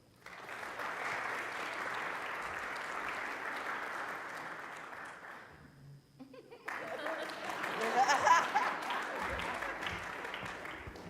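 Audience at a community talk gives steady, dense applause for several seconds, a brief lull, then a second swell of clapping with some cheering that rises and fades.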